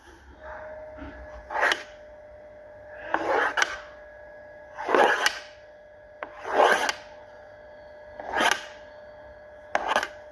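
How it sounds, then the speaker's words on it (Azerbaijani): A knife slices through a soft, moist cake, giving six separate rasping cuts spaced about every one to two seconds, close and fairly quiet, with a faint steady hum underneath. "Islaq kekim soydu, bir dilim kəsdim."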